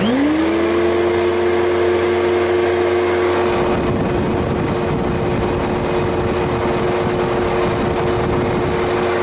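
A Simplicity Riccar vacuum cleaner spins up under HEPA testing, its motor rising quickly to a steady high whine with dense rushing airflow, loud and continuous, the low rumble thinning after a few seconds.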